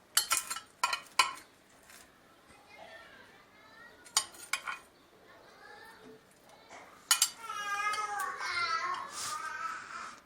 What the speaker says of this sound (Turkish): Bu arada bebeğimin de sesi geliyor kusura bakmayın.